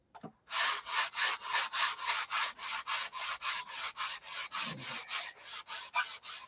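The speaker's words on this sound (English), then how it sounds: "Sanding is an art all in itself." Hand sanding on wood for a SIG Magnum fuse, about twenty even back-and-forth rasping strokes in a steady rhythm, close and alone after a brief knock at the start.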